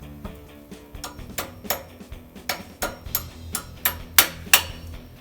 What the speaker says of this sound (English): We'll probably have to pound it with a hammer.